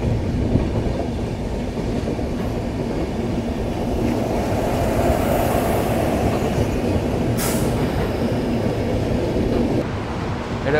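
12261 Mumbai CSMT–Howrah AC Duronto Express running on the line, heard from on board: a steady, loud low rumble of wheels and carriage with faint rhythmic clatter, continuous throughout with no talk.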